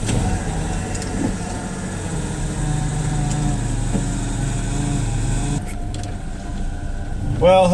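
An old truck's engine runs at a steady low rumble with road noise while driving, a continuous mid-level drone that shifts slightly near the end.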